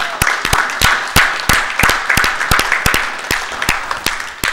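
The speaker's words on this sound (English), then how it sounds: "For another one more round of applause" Applause from the Granada Forum audience for speaker Richard McDonald at a June 2005 talk on state citizenship: a small crowd's sharp, separate claps in an uneven patter that holds steady for several seconds.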